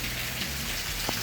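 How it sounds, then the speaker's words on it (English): Steady rain falls during the rainy season in Harare, Zimbabwe, a continuous close hiss of drops on surfaces that stays even throughout, with no voices. "Rain season in Zimbabwe,"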